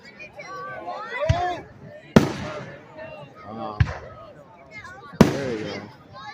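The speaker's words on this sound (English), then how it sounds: "welcome to part 2 of the Christmas in July in Turners Falls fireworks display" Fireworks bursting over Turners Falls at a Christmas in July display: four sharp booming bangs spaced a second or two apart, with people chatting and exclaiming between them.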